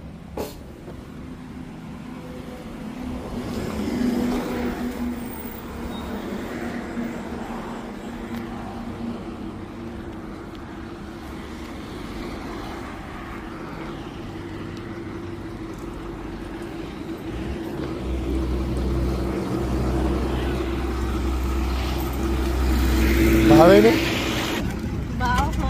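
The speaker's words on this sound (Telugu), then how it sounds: "నాకు తెలుసు అదే బస్సు." A bus pulls in at a roadside stop, its engine rumbling low and swelling louder near the end as it arrives, with voices talking over it.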